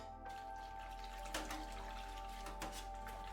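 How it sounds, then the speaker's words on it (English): Water gently bubbling and simmering in a kettle inside a quiet cottage, a steady low wash with soft splashy swells, close and continuous with no talking. "You hear the sound of water bubbling and some boiling in the kettle."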